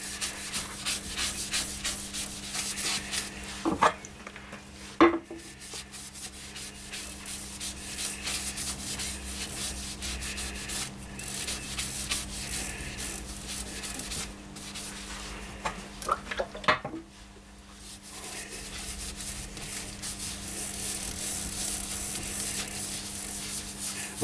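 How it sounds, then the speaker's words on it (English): Steady cloth rubbing as sanding sealant is applied to a wooden goblet turning on a lathe, over a constant motor hum, with a couple of brief knocks partway through. "Just putting the first coat of sanding sealant on now."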